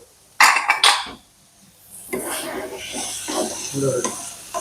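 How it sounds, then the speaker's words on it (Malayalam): Mustard seeds sizzle and crackle in a hot pan during tempering for a lunch curry, preceded by two sharp clattering pan sounds, the frying steady and close with brief faint voices. "ഇനി കടുക് താളിക്കണം."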